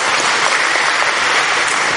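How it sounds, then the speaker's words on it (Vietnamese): An audience at a Buddhist lecture on Western philosophy applauds steadily, a dense, even wash of clapping from many hands that holds at the same level throughout with no voices over it. "Cho một tràng pháo tay đi ạ."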